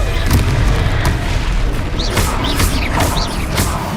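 Confringo fire spell blasts in Hogwarts Legacy, a run of booming explosive bursts with crackling impacts and whooshing effects over constant battle noise.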